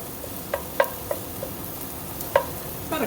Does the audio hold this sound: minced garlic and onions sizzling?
yes